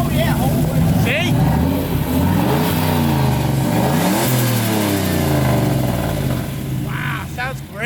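A supercharged 1963 Ford Galaxie 500 engine revving up and down in sweeping accelerations, loud and close, with people talking over the engine.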